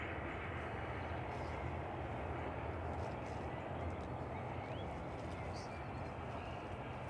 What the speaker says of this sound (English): Jet 2's JZBI coming in from Agadir, flight 1762